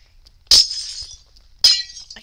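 Two sharp glass-pane breaking sounds from the Minecraft video game, each a bright crisp shatter with a short tinkling tail, about a second apart, loud and alone.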